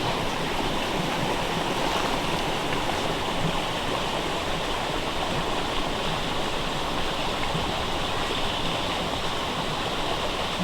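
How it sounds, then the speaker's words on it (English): A flowing creek on a spring walk in Michigan, a steady broadband rush of moving water heard close and continuous with no talk. "There's the creek."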